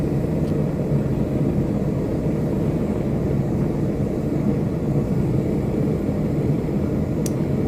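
A kiln burner idling, a steady broadband roar with a low rumble that holds even and unchanging throughout, close and fairly loud with no talk over it.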